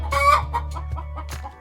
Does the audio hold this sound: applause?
no